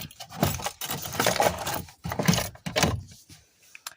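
A light metallic jingle and rattle of keys being set down into the carpeted cargo tray of a 2020 BMW X3, a few short clattering bursts close by, with no talking.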